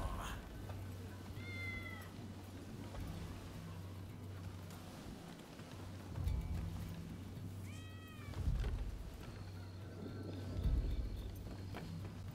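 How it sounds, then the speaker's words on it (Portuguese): Tabby cat meowing in the video game Rise of the Ronin, two or three short plaintive meows spaced apart over quiet ambient game sound with soft footsteps and low thuds. "É um gato malhado."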